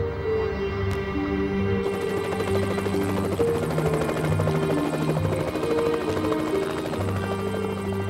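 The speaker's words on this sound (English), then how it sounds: "The BBC's helicopter was soon on its way to the scene with Anna Rajan, 5 Live's traffic reporter." Steady droning rotor and engine hum of a BBC news helicopter flying toward a motorway accident scene, continuous and fairly loud with a tonal whine, no voices.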